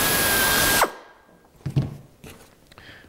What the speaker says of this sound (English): We're going to drill another hole randomly in our line of holes